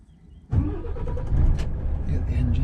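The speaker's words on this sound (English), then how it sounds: "Get the engine started." An HGV truck's engine cranks and fires after a quiet cab moment, then settles into a steady, loud diesel idle rumble that holds for the rest of the short stretch.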